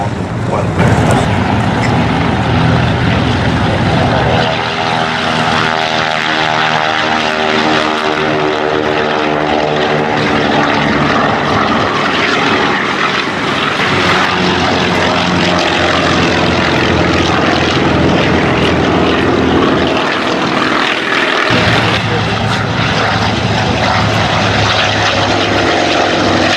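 Vintage propeller aircraft at the Flying Legends airshow at Duxford, its piston engine droning loud and steady throughout with a rough, throbbing roar and shifting pitch as it passes, continuous and close.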